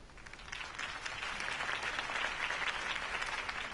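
Crowd applause after a campaign speech in Batman: The Telltale Series, a steady, moderately quiet wash of many hands clapping that holds evenly throughout.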